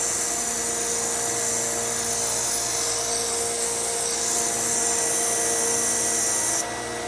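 A belt grinder sharpens a Henckels knife on the slack part of the belt, a loud continuous abrasive hiss and hum, close and steady, with the high grinding tone dropping off abruptly near the end.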